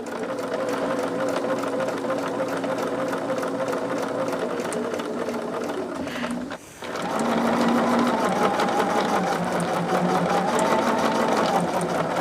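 A sewing machine stitches a fabric pouch in a continuous, close, steady whir, pausing briefly about halfway before running again at a slightly different pitch.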